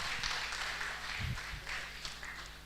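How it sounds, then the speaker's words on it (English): Audience applause at a CoMUI gathering honouring living legends: a faint, steady wash of many hands clapping from across the room, continuing for a few seconds without a clear start or finish. "Another round of applause for our..."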